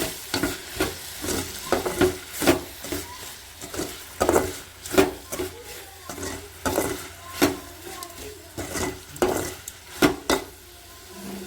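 A spoon scrapes and stirs manathakkali berry thokku with salt in a sizzling pan of oil, making steady rhythmic strokes about once a second over a constant frying hiss, close and clear.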